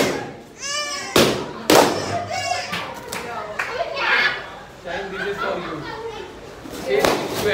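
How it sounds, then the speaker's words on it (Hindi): Sharp bangs and thuds go off irregularly, some loud and close, mixed with crackling pops, while people talk throughout. "देखो आतिशबाजी चल रही है गाइस, पटाखों की आवाज़ आ रही होगी"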